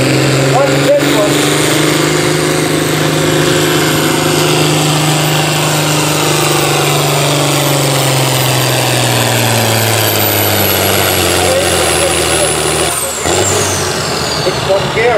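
Pulling truck or tractor engine roaring at a tractor pull in Kempton, Pennsylvania, a loud sustained drone that shifts in pitch and strains continuously, with the crowd setting noisy in the background.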